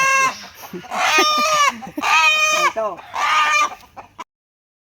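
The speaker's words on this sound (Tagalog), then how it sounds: "Tinaling manok" A tied chicken on a Philippine farm clucks and squawks loudly nearby in three harsh, strained bursts with short gaps between them, and someone speaks briefly.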